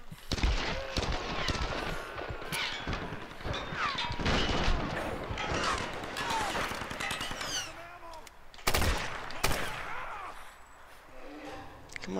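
Shotgun blasts and other gunfire in the 2013 Tomb Raider video game ring out in sharp, loud bursts among crashing impacts, with someone talking over the action.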